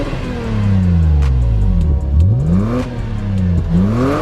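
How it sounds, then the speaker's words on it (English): Lexus IS300 fitted with a new HKS exhaust revving: engine pitch climbs and falls in several sweeping revs, loud and close, with a steady deep exhaust note throughout. "we're gonna see how loud this thing is when we hit the gas"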